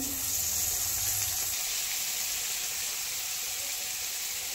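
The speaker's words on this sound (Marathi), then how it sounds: "इथे भाजून घ्यायचा आहे आपल्याला बटाटा थोडासा" Steady, loud sizzling of boiled potatoes frying in a hot pan, a continuous hiss with no talking.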